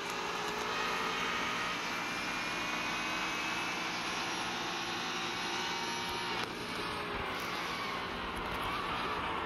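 In a racing video game at a NASCAR track, F-18 jets fly over as a continuous loud whooshing roar layered over engine drone. The roar is steady throughout, with a slight shift partway.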